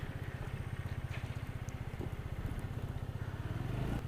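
A scooter engine putters in a rapid, even low thrum close by, building slightly as the throttle is pulled slowly and steadily by a beginner rider.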